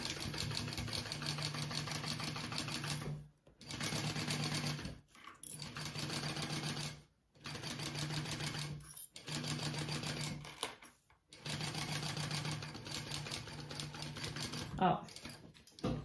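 A sewing machine bastes a zipper panel onto a crossbody bag, running in several steady bursts separated by brief pauses, fairly close, with a person talking over parts of it.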